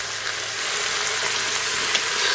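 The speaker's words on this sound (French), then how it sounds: "Allez, on va remuer." Pork browning in a pan for colombo, giving a steady loud sizzle with faint stirring scrapes beneath it, close and continuous, with no voices.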